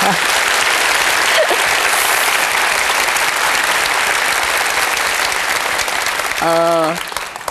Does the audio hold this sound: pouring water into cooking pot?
no